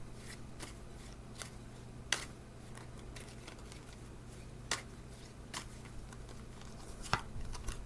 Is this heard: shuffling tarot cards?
yes